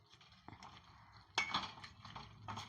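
A metal lid goes onto a pot of tomato pickle cooking with tamarind: a few faint clinks and one sharper clatter of metal on metal, close by and quiet, with no talk.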